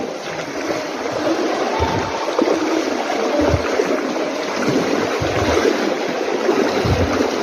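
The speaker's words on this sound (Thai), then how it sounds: "น้ำแรงมากครับ" Strong, steady rush of water flowing through a cave passage, a dense continuous roar with occasional splashes, heard close and without any talking.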